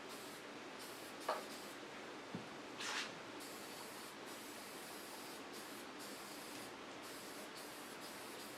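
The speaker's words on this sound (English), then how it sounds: "You got the surface of that shaper sprayed down with corrosion block" Corrosion block sprayed onto the surface of a Grizzly 1026 shaper: a continuous hissing aerosol spray with a few short knocks and a brief louder burst, close and steady throughout.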